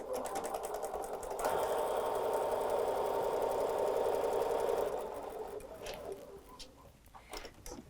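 A sewing machine runs a scant quarter-inch seam on quilting fabric, a close, steady mechanical whir lasting several seconds before it slows and stops, followed by faint handling clicks.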